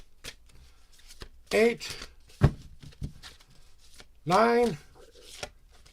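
Tarot cards are shuffled and handled in short crisp riffling bursts and taps, interleaved with a person counting aloud in the foreground.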